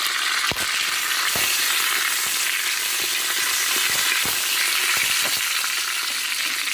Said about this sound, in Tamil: கொஞ்சம் கருவேப்பிலை சேர்த்து கொஞ்சம் நல்லா வதக்கி விட்டுக்கோங்க